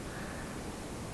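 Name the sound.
white noise played by Google Home speaker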